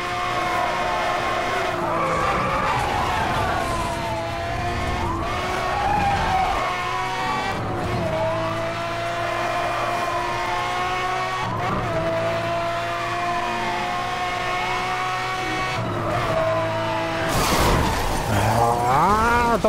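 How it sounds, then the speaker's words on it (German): Cars skidding and crashing in Need for Speed Hot Pursuit Remastered, with long screeching tire squeals over roaring engines, repeated impacts and a loud glass-shattering crash near the end. "Das Problem, wenn dann 3 Autos ineinander fahren"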